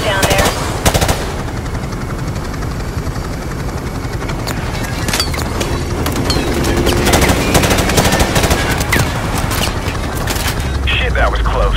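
Gunfire in the Call of Duty Modern Warfare video game, with sustained machine-gun bursts and explosions and a helicopter beneath, continuing loud throughout while voices talk over radio chatter.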